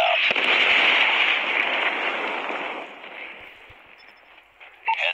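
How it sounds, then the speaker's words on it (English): A predator missile strike explosion in the Call of Duty video game: a loud, broad blast rumbles right away and slowly fades over several seconds, with a sharper burst near the end. "Hostile predator missile inbound."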